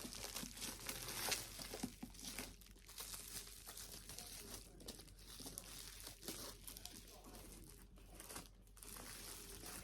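Corners of a book cover are torn and peeled off up close, giving a steady run of crinkling, ripping paper noise with small pauses, fairly quiet overall.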